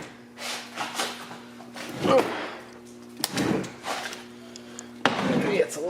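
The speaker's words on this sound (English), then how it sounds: "And then we have this sliding door." A sticky sliding garage door scrapes and rumbles in several rough bursts as it is forced open, with pauses between pushes and voices nearby.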